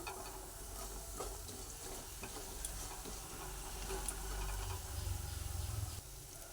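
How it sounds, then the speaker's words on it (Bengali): Bori lentil dumplings fry in hot oil in a pan for a cucumber curry, giving a steady low sizzle with faint scattered ticks and crackles that swell slightly near the end, with no talking. "কিছু বড়ি দিয়ে বড়ি ভেজে নেব আজ শশার তরকারি করব কিছু বড়ি ভেজে নিচ্ছি"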